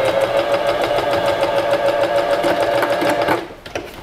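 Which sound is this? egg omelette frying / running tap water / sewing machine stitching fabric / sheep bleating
sewing machine stitching fabric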